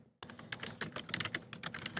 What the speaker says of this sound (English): sometimes while Gabby's typing away here